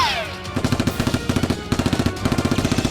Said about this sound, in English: The henchman and the boss, panicking, fled while shooting back.